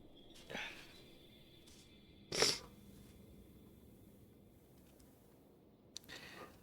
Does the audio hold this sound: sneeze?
yes